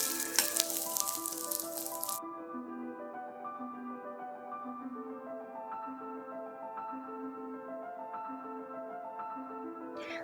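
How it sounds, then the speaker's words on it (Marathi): Loud sizzling of neer dosa ingredients sautéing with salt in hot oil fills the first two seconds, then stops and gentle background music carries on. "यामध्ये चवीनुसार मीठ घालून आपल्याला हे 2-3 मिनिटे चांगलंसं परतून घ्यायचं आहे"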